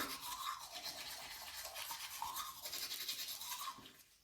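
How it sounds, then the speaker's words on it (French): Someone brushes their teeth with a toothbrush, giving soft, close, rhythmic scrubbing strokes that repeat for a few seconds and then fade, with no talk. "je me brosse les dents et je vais au lit."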